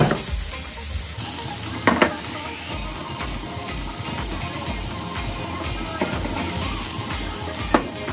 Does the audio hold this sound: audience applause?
no